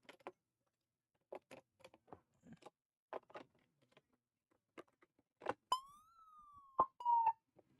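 A few quiet clicks and taps, then a brief electronic siren tone rising and falling, close and short, ending abruptly.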